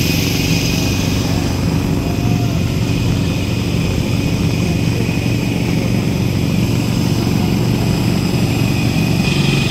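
Steady, loud cabin drone of an IndiGo airliner's engines in flight during heavy rain, a continuous broadband roar filling the whole stretch without pause.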